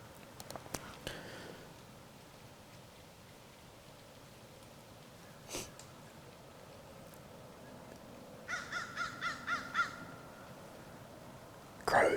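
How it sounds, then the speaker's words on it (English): Crows caw in the woods at dawn during a deer hunt, a few scattered calls early on and then a quick run of about six caws from one bird, moderately distant in a quiet setting. "Crows are just now waking up, starting to fly around."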